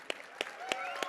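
Audience members at a stage workshop clap for a volunteer joining the performer, four crisp, evenly spaced claps ringing out close by over a quiet room.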